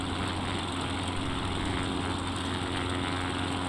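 A small propeller airplane cruises after flaps are raised near the South Lake Tahoe airport, its engine drone steady and loud inside the cabin, unbroken throughout with no talking.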